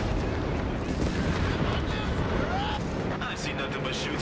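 Rapid gunfire and explosions from a Company of Heroes 3 beach landing battle on an Italian map, dense and continuous, with shouted game voices mixed into the steady din of combat.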